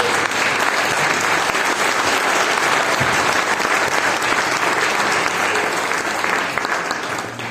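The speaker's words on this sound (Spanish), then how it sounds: "¿Alguien puede aplaudir a nuestro Dios?" A church congregation claps loudly and continuously during a Spanish-language service, a full, even wash of applause filling the room for several seconds before tapering slightly.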